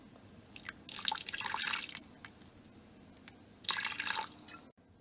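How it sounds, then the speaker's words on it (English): Dry red wine, about half a cup, poured into a pressure cooker pot: two short bursts of splashing liquid, close and fairly quiet, with a pause between them and no talk. "I'll be adding my dry red wine. And I'm not adding a lot. I'm just adding about a half of a cup."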